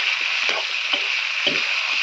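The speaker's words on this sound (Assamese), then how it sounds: "মাংস আলু দি দিওঁ একেবাৰে, চব মানে লৰাই মৰাই ধুনীয়াকৈ।" Pork and potatoes sizzle steadily in a pan, a continuous close frying hiss broken by a few soft scraping stirs of a spatula, with no talking.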